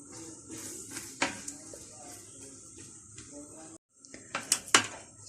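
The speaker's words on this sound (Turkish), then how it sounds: "Güzelce kavuruyoruz ocakta" Cabbage and beans are sautéed in a pot on the stove, with clinking metal from stirring, scraping utensil taps and a soft sizzle, the sounds coming in irregular bursts, then a brief pause before more clattering.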